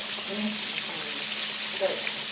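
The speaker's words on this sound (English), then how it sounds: "It's frying nice and crisp." Pork chops fry in oil in a pan, a steady sizzling, crackling hiss with faint voices murmuring underneath.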